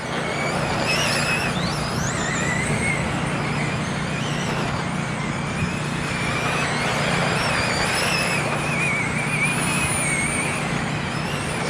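Race cars roar around the TARCAR Toledo oval in a close battle, a dense, steady wash of engines with whining tones rising and falling as cars pass, loud and continuous throughout.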